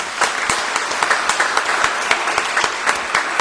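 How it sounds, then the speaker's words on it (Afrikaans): A church congregation at a Sunday service claps hands warmly, with loud, continuous applause from many people that holds steady throughout. "Kom ons gee vir hulle lekker hande klap."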